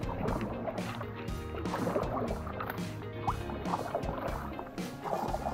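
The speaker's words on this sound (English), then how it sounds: "We are literally kayaking through the mangroves of the Panama Canal." Kayaks paddled through mangroves in the Panama Canal near Gatun Lake, with rhythmic paddle strokes splashing and dripping water close by, over a steady background of boat and water noise.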